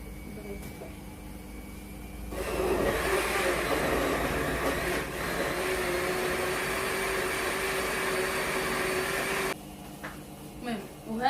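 A kitchen blender grinding apples and other fruit into juice, a steady loud whirring motor that runs for about seven seconds, then cuts off, with quieter room sounds before and after.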